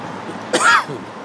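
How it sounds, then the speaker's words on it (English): A single short, sharp cough sounds close up, then fades into quiet room tone. "Despite that cough, I continue to improve with how I'm feeling."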